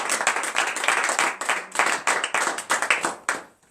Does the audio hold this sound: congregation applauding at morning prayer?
yes